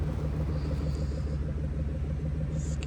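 Shelby GT500 on a drive in Florida, a low, steady engine rumble heard from inside the car, unbroken and fairly loud with no clear revving.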